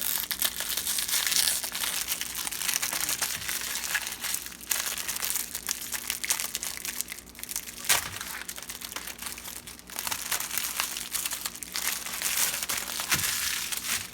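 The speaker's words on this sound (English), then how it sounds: "The first step is to undo the wrapper." Plastic wrapper of a microwave popcorn bag being peeled open up close, a steady run of crinkling and crumpling that lasts throughout with no talking.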